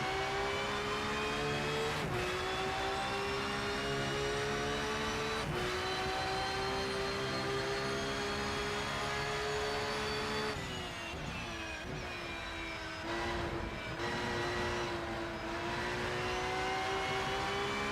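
A race car engine in the Rennsport racing game drones at high revs through a steady lap, with brief drops and shifts in pitch at gear changes and braking, and no talking.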